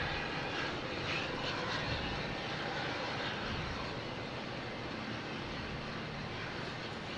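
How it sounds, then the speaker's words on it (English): A JetBlue Airbus A220 arriving at Boston Logan Airport gives a steady, moderately distant jet engine roar, a broad even rumble that holds without talking throughout. "Next coming in, we have a JetBlue coming in from San Juan. An A220."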